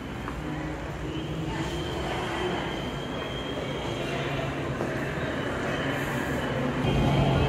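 A Montreal metro train rumbles steadily through a station with a broad, continuous roar and faint squeals, growing slightly louder toward the end.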